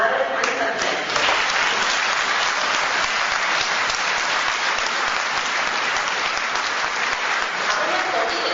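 Audience applause fills a conference hall, with sustained clapping from a crowd that holds steady throughout at a fairly loud, even level.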